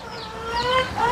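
Chickens cluck on a farm in a video game, a short burst of fowl calls over steady tonal background music.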